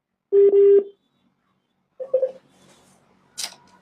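A telephone number is dialed in touch tones, with a short clear beep followed by a second, briefer burst of tones, then faint handling noise and a small click.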